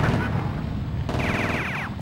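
Gunfire rings out in Grand Theft Auto as vehicles are shot, a quick rapid burst of shots lasting under a second over continuous game background noise.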